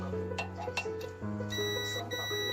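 A multimeter's steady continuity-test beep sounds over a low hum, with a few light clicks of probes touching a rice cooker's wiring before the tone shifts and continues.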